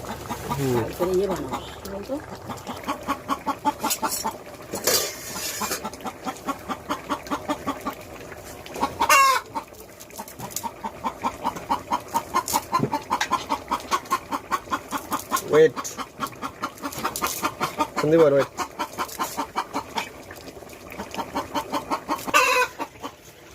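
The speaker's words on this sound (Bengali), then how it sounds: "মুরগি চলে এসছে" Desi chickens cluck in rapid repeated bursts nearby, with occasional louder squawks, while people talk over them.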